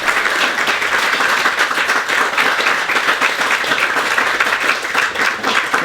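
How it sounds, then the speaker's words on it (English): Steady applause from a small audience at a football cup draw event, continuous dense clapping at a close, even level throughout. "So, round of applause for Gavin"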